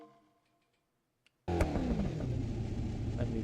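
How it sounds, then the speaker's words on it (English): Loud car engine in a driving video game played with a wheel, bursting in abruptly after a near-silent moment and then holding a steady roaring drone with rising revs. "I'm just gonna go into an even more annoyingly loud car"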